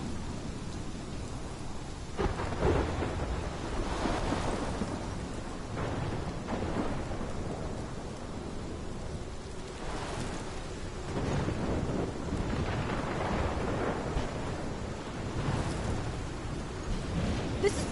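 A thunderstorm rages in Life is Strange, with steady heavy rain hissing throughout and several deep rolls of thunder rising and fading at moderate loudness.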